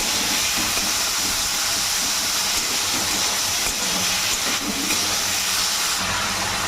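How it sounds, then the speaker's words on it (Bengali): Prawns, about 250 grams, fry in hot oil with a dense, continuous sizzling hiss that stays close and steady throughout, with no talking. "চিংড়ি মাছগুলো ভাজা হয়ে গেছে, এবার তুলে নিচ্ছি"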